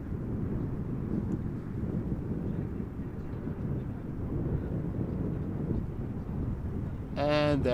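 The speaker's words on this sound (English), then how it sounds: "And there is the Dreamliner arriving from Cartagena, the 787-9 from KLM." A KLM Boeing 787-9 Dreamliner arrives at Amsterdam Schiphol in gusty crosswind conditions. A steady, broad jet roar mixes with wind buffeting on the microphone throughout, and a voice briefly cuts in at the very end.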